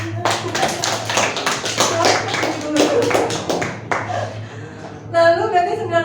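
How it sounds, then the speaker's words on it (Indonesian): A small classroom group claps for a student named Dima during a role-play session, a few seconds of close, uneven hand claps, then a voice speaks briefly at the end. "tepuk tangan Dima."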